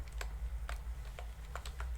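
Crisp, rapid keystrokes on a computer keyboard, clustered in uneven short bursts over a low steady hum, fairly quiet and close.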